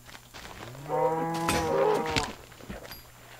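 Cattle lowing inside a farming video game: one long, loud moo with a steady tonal harmonic stack, sounding close and alone over a faint background hum.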